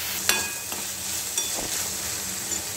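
Chopped tomatoes are stirred and sautéed in a pan, a continuous close sizzle with a few clinks and scraping stirs of a spoon against the pan, with no talking.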